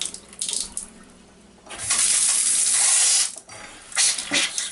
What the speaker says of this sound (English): And there goes the water turning on.